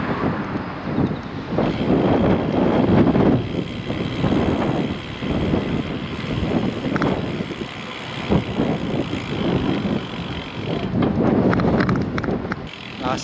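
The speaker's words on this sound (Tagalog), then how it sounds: "Lakas ng hangin, delikado yung bike natin." A strong wind roars and buffets the microphone throughout a gravel bike ride, a continuous loud rush with gusty swells and no voices over it.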